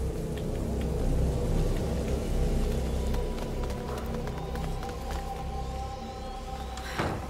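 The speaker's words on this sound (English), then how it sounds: "Lucas, Hugo, stay out of the rain." Steady rain in the video game A Plague Tale: Innocence, a loud continuous wash of falling water with low rumbling underneath, alone without talk.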